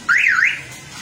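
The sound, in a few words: car alarm warning sound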